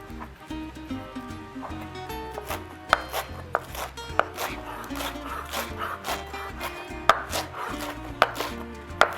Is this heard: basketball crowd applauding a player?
no